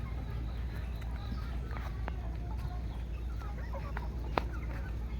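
Native and Fayoumi chickens raised together cluck and chatter in short, repeated calls over a constant low hum, several birds close by with overlapping clucks throughout.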